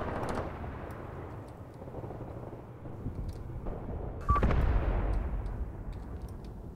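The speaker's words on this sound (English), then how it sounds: "They are shooting more artillery at me there" Artillery fire in the tank battle game Graviteam Tactics Mius, heard as distant, muffled booms under a constant low battlefield rumble, with one sharper, louder impact partway through.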